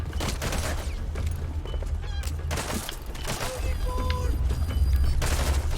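Gunfire in Metal Gear Solid V: The Phantom Pain, a dense volley of sharp shots and bursts over a steady low rumble, with brief tonal game sounds in the second half.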